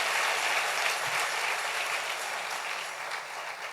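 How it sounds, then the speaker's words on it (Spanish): A church congregation applauds during a sermon, a steady wash of clapping filling the space at a consistent level, fairly distant and even throughout. "Dale un aplauso al Rey bendito"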